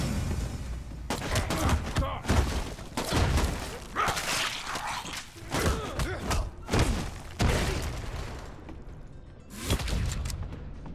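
Gunfire in the Redeemer video game, repeated loud shots and thudding bursts in uneven clusters across the clip, with brief pauses between volleys and swishing impacts, no speech over it.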